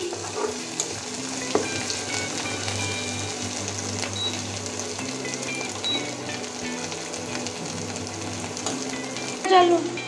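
Ginger, garlic and onion fry in oil in a pan for Bengali rohu fish curry, a continuous crackling sizzle with occasional clicks of a utensil and a louder stir near the end.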